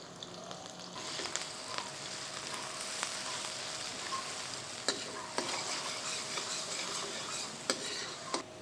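Onion and garlic sauté in a pan for a Filipino kare-kare, with a steady frying sizzle and occasional clinks and scrapes of a utensil stirring against the metal pan.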